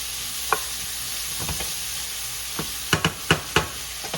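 Beef mechado stew ingredients sizzle in a pan with a quiet, constant frying hiss, punctuated by a few sharp clinks and scrapes of a utensil stirring, clustered toward the end.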